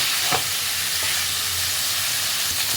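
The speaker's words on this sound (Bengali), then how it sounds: "পনিরগুলোকে হালকা ফ্রাই করে নিতে হবে।" Paneer pieces frying lightly in a wok for palak paneer, giving a steady, close sizzle with a soft low rumble and a couple of brief clinks from stirring.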